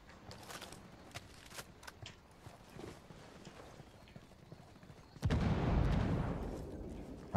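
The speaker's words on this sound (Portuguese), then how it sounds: "Foi uma explosão de um tanque que matou nós." Tank explosion and gunfire in the video game Ghost Recon Wildlands: a loud, broad blast erupts near the end and rumbles on, after a stretch of quieter scattered game noise.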